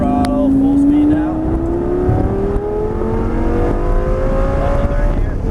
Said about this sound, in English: Now start easing on the throttle. Full speed now.